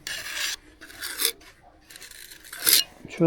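A tiny trowel spreads waterproofing compound during a planting and fixing job, making close, raspy scraping strokes in three short bursts separated by brief pauses.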